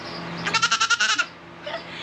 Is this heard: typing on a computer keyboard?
no